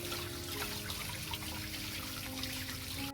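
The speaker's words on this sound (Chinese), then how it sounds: "肉拿到清水下面冲洗干净" Tap water runs as raw pork is rinsed under it, a soft, continuous trickle and splash with no talking, fairly faint.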